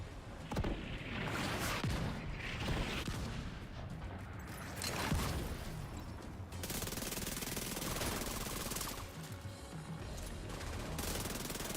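Mortar fire in the video game Division 2: dense, continuous barrage of gunfire and heavy blasts with rapid bursts and booming impacts, loud and sustained throughout without voices.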